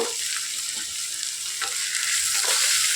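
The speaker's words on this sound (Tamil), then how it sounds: "நல்லா வதக்கிடலாம்" Mixed vegetables for a vegetable kurma sauté in a pan with a continuous bright sizzle, broken by a few soft scrapes of stirring, heard up close and alone.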